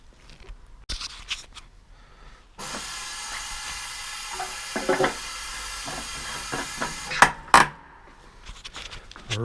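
Fuel pours into the tank of a Powermate 79cc engine, a steady faint liquid hiss and trickle lasting several seconds, with light plastic clicks and handling knocks around it.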